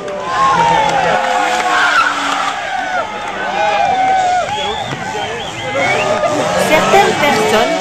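Tires squeal and screech continuously as motor scooters drift around a hot parking lot at Le Mans, the wails rising and falling over engine noise and a busy crowd murmur.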